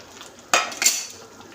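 A utensil clatters against a pot as a fried egg is stirred into tadka dal, giving two sharp metallic knocks with a soft scrape between them, close and alone.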